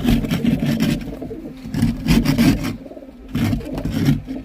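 Rough rasping scrapes of a tool over frozen pigeon droppings on a loft floor in sub-zero cold, coming in three close, loud bursts with short pauses between, while pigeons coo faintly in the background.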